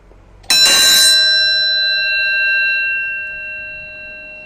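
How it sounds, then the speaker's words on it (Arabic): A single bright metallic strike of a horse-carriage bell rings out clearly, its pure tones sustaining and slowly fading over several seconds with nothing else heard. "سمع صوت الرنه؟ الجرس ده بيتقسم نصين وبيتحط الشاكوش"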